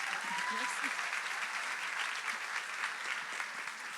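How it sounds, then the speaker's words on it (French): A room full of people at a church baptism celebration applauds steadily for several seconds, an even wash of clapping with no pauses. "Amen, on peut applaudir Kelly."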